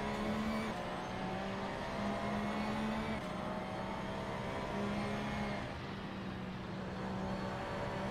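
Porsche and McLaren race cars lap the Nürburgring GP circuit in a sim racing game, a steady loud engine drone with sustained revving tones and slight pitch shifts through gear changes, heard without talk.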